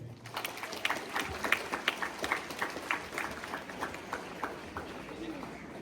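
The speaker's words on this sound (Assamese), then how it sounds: "আমি সকলোৱে আকৌ এবাৰ আমাৰ এই ভাল ছাত্ৰ ছাত্ৰীৰ কাৰণে এটা চেল্ফ ৰেচপেক্টৰ কাৰণে হাত চাপৰি হ'ব লাগে" Students at a morning school assembly at JNV Morigaon, Assam, clap together in a steady, sustained round of applause, many hands patting quickly and evenly at mid distance with a faint murmur of voices underneath.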